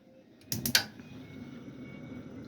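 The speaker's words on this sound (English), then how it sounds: "Press and hold the button. Easily lights the burners." On the gas hob of a Bailey Phoenix 640 caravan, a single igniter button is pressed, giving a quick burst of sharp clicks and a mechanical creak. A faint, steady hiss follows.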